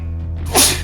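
One sharp, close sneeze bursts out near the end of a brief moment over a low steady hum.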